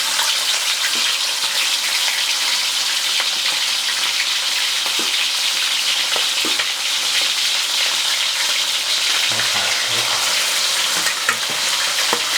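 Marinated beef fries in hot oil over medium heat, a steady loud sizzle and crackle running the whole time with occasional stirring clatter, no voices.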